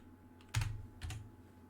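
A few soft keystrokes on a computer keyboard make quiet, close clicks, about two small taps in a near-silent room.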